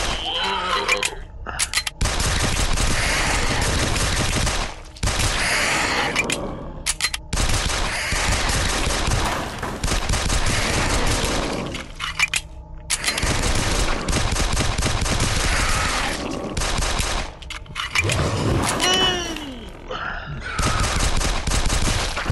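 Rapid gunfire from the video game SAS: Zombie Assault 3 crackles almost without pause, loud and dense bursts broken by a few short gaps, with game effects mixed in.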